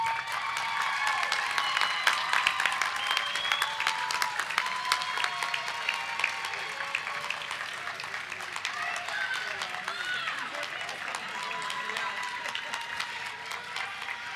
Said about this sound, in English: recognize their commitment to you with a big round of applause